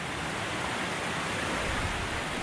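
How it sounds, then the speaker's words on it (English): Running water at a water mill beside Lake Cumberland in winter, a steady, dense rushing wash with no breaks, loud and close, filling the scene without any voices. "they got the water mill, I guess is what they call those things"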